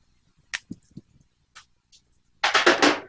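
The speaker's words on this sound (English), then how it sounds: "My socket holder just went OMG explosion." A Harbor Freight socket holder bursts apart: a few scattered sharp clicks and pops, then a loud rattling clatter as the pieces spill and scatter nearby.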